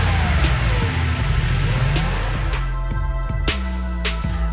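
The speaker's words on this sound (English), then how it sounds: "he revved the engine" Car engine revving, a loud mid-pitched roar that climbs and drops through several sharp throttle blips, then settles into a rumbling idle with a few more short revs, close and alone.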